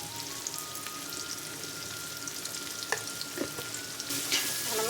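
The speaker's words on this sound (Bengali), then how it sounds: "আমি ভালো করে পেঁয়াজটা ভাজতে দেব।" Chopped onions with salt fry in a pan, giving a steady, fairly quiet sizzle with a few sharper crackles and occasional stirring scrapes near the end, with no talking.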